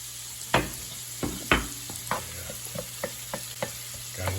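Pieces of osso buco fry in a pan with butter, a steady low sizzle punctuated by a series of clinks and scrapes as the meat is stirred and moved, close and fairly quiet.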